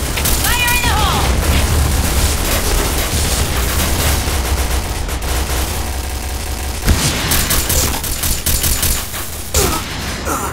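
Video game combat with dense, loud gunfire and rumbling booms throughout, including a sharper explosive thump partway through, with a voice briefly shouting in the mix.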